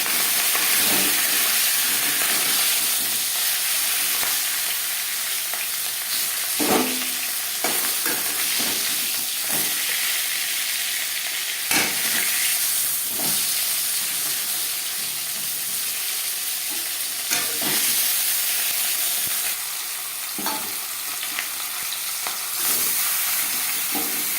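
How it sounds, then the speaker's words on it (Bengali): Fish heads fry in a pan for murighonto, a loud continuous sizzle and crackle with occasional sharper pops and stirring scrapes, no talking. "পরের মাছের মাথা একইভাবে ভেজে নেব"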